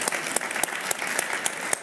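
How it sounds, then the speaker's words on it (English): An indoor audience at a fashion talk applauding Samuel Ross, a dense steady patter of clapping with sharper individual claps standing out throughout. "Big applause for Samuel Ross."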